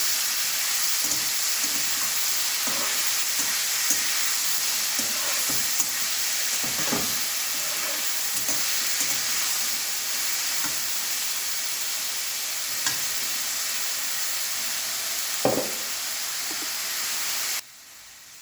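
Steady, hissing sizzle of vegetables frying in a pan in a home kitchen, close and continuous, with occasional soft clinks of stirring before it cuts off near the end.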